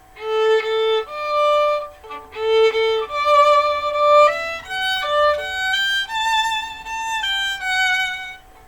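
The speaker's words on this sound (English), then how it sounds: "so if I were to only vibrate on the longer sounding notes, which would be the quarter notes" A bowed violin plays a slow melody, its longer held notes warmed by vibrato while shorter notes stay plain; solo and close, with no talking.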